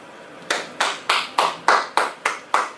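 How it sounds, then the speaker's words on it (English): Eight separate hand claps in a slow, even rhythm, close and fairly quiet, each one sharp with a short decay and no other sound between them. "go ahead and give yourself a round of applause"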